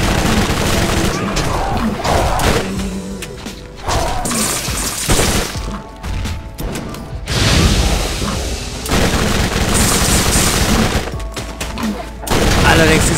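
Submachine gun gunfire in the video game Borderlands, loud dense bursts of rapid shots and booms over about thirteen seconds, broken by a few brief lulls, with explosions and game noise.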